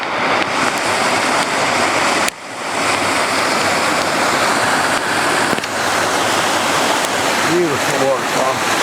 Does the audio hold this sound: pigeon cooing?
no